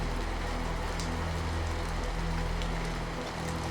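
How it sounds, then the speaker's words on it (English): Heavy, dull rain pours steadily without a break, a dense muffled wash with no voices. "The rain started again, but this time its sound was muffled, heavy."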